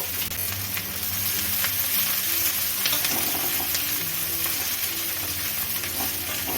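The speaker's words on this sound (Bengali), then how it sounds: "একই সাথে কেটে রাখা শাকটাও দিয়ে দেবো দিয়ে একটু ভাজা ভাজা করে নেব" Chopped bottle gourd leaves fry in a pan with small pieces of onion, a steady close sizzle with occasional stirring scrapes, over a faint low hum.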